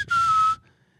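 A person imitating a cockatiel's charge whistle, one steady, clear, loud whistled tone held for about half a second, then silence.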